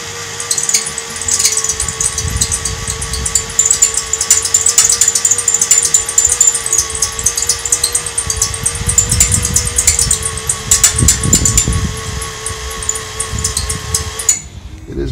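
A drill bit grinds into a rusted bolt with a continuous high whine and uneven grinding surges that run steadily for about fifteen seconds, then cut off abruptly at the end.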